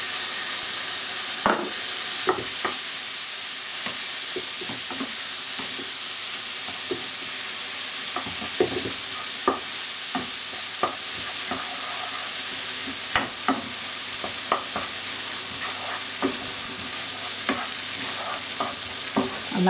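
Dal goes into a sizzling tarka pan and is stirred, a loud continuous frying hiss broken by repeated spoon scrapes and knocks against the pan.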